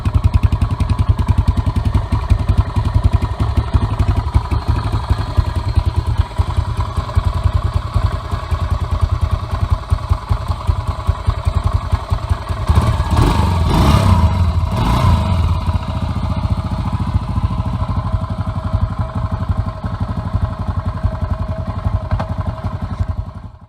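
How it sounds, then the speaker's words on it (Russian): A Yamaha TT500 single-cylinder motorcycle engine runs steadily and loudly throughout, with a low, even idle-like rumble and a brief burst of clattering in the middle. "многие владельцы сразу же отметили очень тихий выхлоп в сравнении с двухтактниками"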